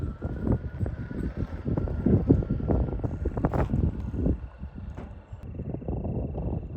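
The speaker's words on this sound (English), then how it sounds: "It's super windy up here" Strong wind on a mountain buffets the microphone in loud, continuous low rumbling gusts that surge and fade, with no voices over it.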